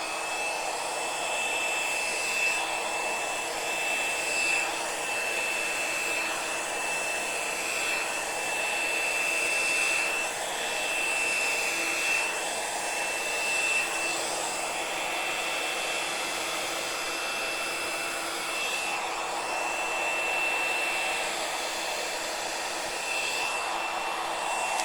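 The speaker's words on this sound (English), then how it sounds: "I'm going to use my blow dryer to push it." A hair dryer blows continuously over acrylic paint poured onto a surface, giving a steady loud whooshing airflow with a thin motor whine that wavers slightly in level as the dryer moves.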